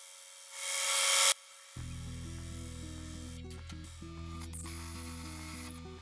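A brief hiss gives way to a steady mechanical whir of a drill press cutting into wood, grinding on for several seconds with slight changes in tone.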